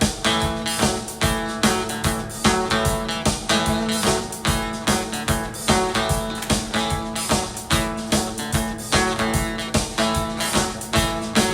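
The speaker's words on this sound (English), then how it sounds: "I played in an acoustic guitar track with that drum sound" Strummed acoustic guitar track over a looped drum patch, a steady, dense rhythmic groove with regular accents, continuous and fairly loud throughout with no voices.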